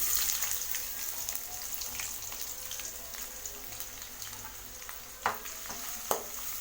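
Chopped onions with fennel seeds and curry leaves sauté in oil on a medium flame, giving a constant close sizzle and crackle, with a couple of sharper spoon-stirring clatters near the end.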